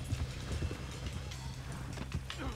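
Horse galloping in the video game Red Dead Redemption 2, its rapid, steady hoofbeats pounding close and loud throughout, with someone talking over the running.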